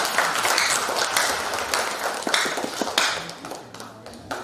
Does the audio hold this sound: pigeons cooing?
no